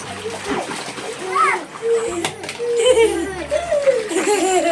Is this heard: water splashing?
yes